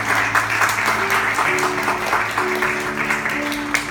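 A church middle-school youth group applauds its teachers at a year-end service, steady moderate clapping with a low tonal hum and music-like drone underneath.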